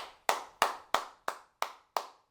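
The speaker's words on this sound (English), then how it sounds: "cup the hand, place it over the elbow, make that sound" Six hollow, evenly spaced slaps of a cupped hand against the skin over an elbow, crisp and close, each fading quickly.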